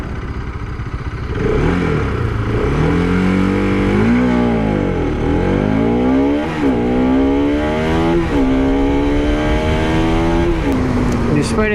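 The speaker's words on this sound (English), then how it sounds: "I'm not being able to launch this bike properly" A 2019 Bajaj Pulsar RS200 motorcycle launches with its engine revving hard, pitch rising and falling through repeated climbs and gear shifts, loud and close for about ten seconds.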